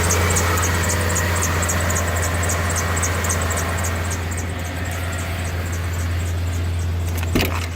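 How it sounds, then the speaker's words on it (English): A Chevy G20 van engine idles steadily with a deep, constant low hum and a faint high whine, holding an even level for several seconds before a brief knock near the end. "You can hear the engine running."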